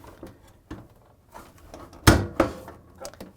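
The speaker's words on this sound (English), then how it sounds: "we're going to close the door so it's not pulling on the panel" A GE appliance door swings shut with one loud thud, then a second softer knock, amid faint handling clicks and bumps nearby.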